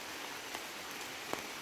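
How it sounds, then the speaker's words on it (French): Rain beginning to fall at a campsite, a steady dense hiss of drops on surfaces with a few brief sharper taps, no talking. "Et la pluie qui arrive"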